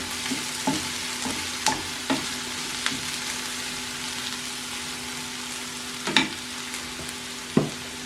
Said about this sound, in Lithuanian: Gerai išmaišom.